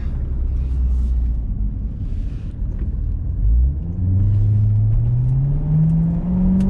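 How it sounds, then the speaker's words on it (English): Corvette exhaust in track mode heard while driving, a deep low rumble that swells as the car accelerates, with the pitch climbing steadily toward the end. "Right now we're in track mode, which means we have a nice exhaust note coming out of the back."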